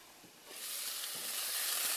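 Onion, ginger and garlic sauté in a pan, a soft, steady sizzle that swells louder after a moment and keeps hissing evenly without any voices.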